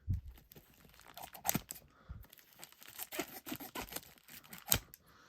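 Cutco scissors cutting open a package of CDs, long box CDs and cassette tapes, with quiet close snips, tearing and crinkling of packaging in irregular bursts.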